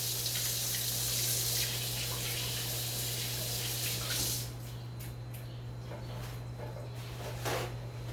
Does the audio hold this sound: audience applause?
no